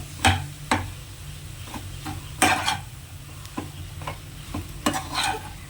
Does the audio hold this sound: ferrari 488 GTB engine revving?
no